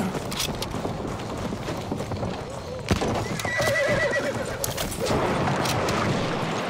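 Galloping hooves clip-clop steadily while a horse neighs and whinnies twice in a Battlefield 1 battle, with an enemy rider passing close, a loud crack near the middle, and gunfire and voices underneath.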